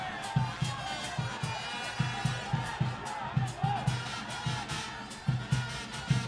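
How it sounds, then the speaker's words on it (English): An unhappy crowd in a football stadium during an Army SC versus Kandy SC match gives off a distant, rhythmic murmur with repeated low thumping pulses and faint chants, quiet and far off. "The crowd not happy."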